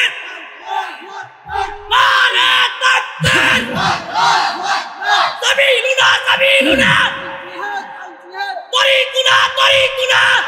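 A large crowd at an Islamic religious sermon gathering chants the takbir "Allahu Akbar" in response, loud roaring shouts rising in repeated waves, with echoing voices filling the space.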